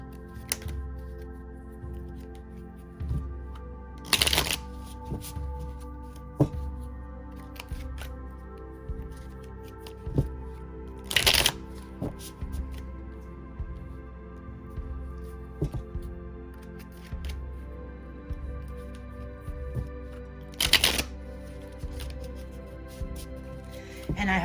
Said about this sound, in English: I am actually going to throw a few tarot cards.